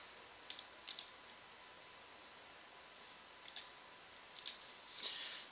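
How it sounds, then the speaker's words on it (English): Sharp, soft clicks of a left computer mouse button in a quiet room: a couple of single clicks early on, another pair later, then a quick cluster near the end, each brief and close. "We'll be clicking the left mouse button."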